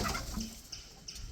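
Chickens in a low-cost tarpaulin-covered coop built for 200 birds give faint, scattered clucks, quiet and slightly distant, with no voices.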